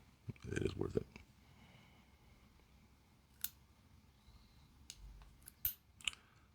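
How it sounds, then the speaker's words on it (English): Fingernail clippers snipping the X-shaped wooden wicks of a WoodWick Phantom Cherry candle: a cluster of close clicks and snips, then a few sharp, isolated clips with quiet pauses between. "I'm just gonna use fingernail clippers. These X wicks are a little tricky to trim"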